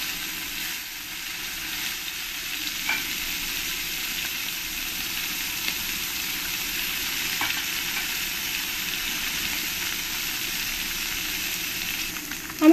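Small puti fish fry in hot oil in a pan for home cooking, giving a steady, even sizzle that holds for the whole stretch with only faint stirring clinks and no talk.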